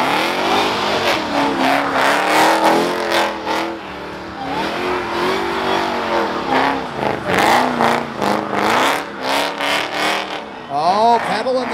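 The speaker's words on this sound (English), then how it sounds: "Oh, pedaling the thing, doing a little drift action." A car does a burnout and drifts during a burnout contest at the Holley Moparty 2021 Mopar event. Its engine revs loud and close in repeated rising and falling surges throughout, with voices talking over it.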